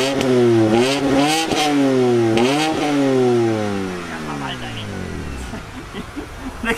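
A BMW E92 330i engine revs hard several times, the pitch climbing and dropping in repeated loud surges before settling back to a lower idle, with voices talking over it.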